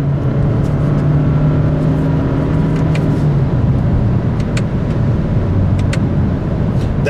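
Steady interior engine drone of a 2023 Toyota Camry SE accelerating in sport mode, with the engine note holding then dropping as the transmission shifts into fourth, continuous and fairly loud with no talking.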